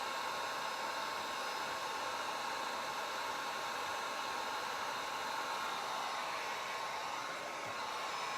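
A hair dryer blows steadily on fresh paint on an old mirror being turned into a magnetic chalkboard, a constant close airy roar with a faint motor whine, unbroken throughout.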